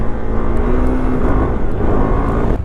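A KTM Duke 390 motorcycle engine revving hard during a wheelie on a road, a loud, close, continuous roar that shifts slightly in pitch, with wind noise around it.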